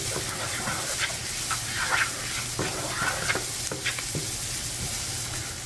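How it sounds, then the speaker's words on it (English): Spices toasting in a hot pan for a lentil and chickpea curry over lowered heat, a steady moderate sizzle with scattered scraping and stirring ticks throughout. "you're going to want these spices to begin to bloom. Kind of toast up a little bit."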